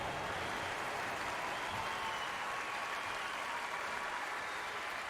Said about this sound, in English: the crowd will react to that quite rightly